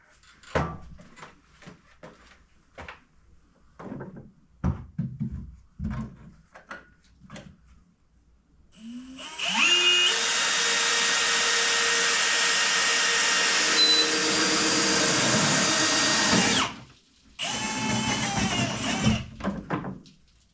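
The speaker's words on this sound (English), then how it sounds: "Auger." An auger drill bores through the structure during an AV demo system pre-wire, a loud sustained whine running for several seconds, pausing briefly, then starting again. Brief knocks and handling noises come before it.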